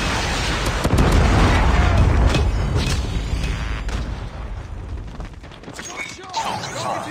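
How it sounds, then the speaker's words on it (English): A predator missile strike in Call of Duty lands with a loud, deep explosive boom and rumbling blast that slowly fades, with game announcer voice lines nearby. "Predator missile inbound."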